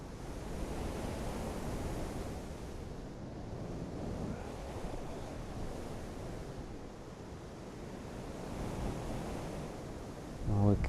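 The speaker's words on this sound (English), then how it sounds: "I'm going to have to stop quite soon, this is just getting a bit silly in this wind." Strong wind buffets the microphone on the Cornwall coast, a steady loud roar with surf-like gusts swelling and easing throughout, no voices.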